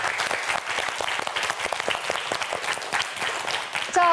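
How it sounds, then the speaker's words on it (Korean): Studio audience applauding on a Korean student quiz show, a steady dense wash of many hands clapping throughout, with a brief voice rising at the very end. "박수 한번 보내주시기 바랍니다."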